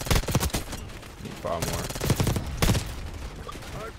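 Rapid Kompakt 92 SMG bursts in Black Ops 6, several short loud volleys separated by pauses, with a player talking over the shooting.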